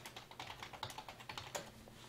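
Rapid keystrokes on a computer keyboard patter quietly and steadily, with a slightly louder key press near the end and no voices.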